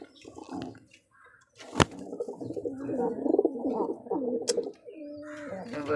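A pigeon with a burst crop coos nearby in throaty, rolling phrases separated by short pauses, with two sharp clicks cutting through.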